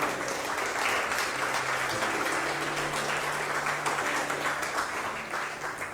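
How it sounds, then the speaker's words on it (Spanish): Church congregation applauding together in sustained, dense clapping that fills the whole stretch evenly, loud and continuous with no break. "¿Cuántos podemos darle palmas al Señor?"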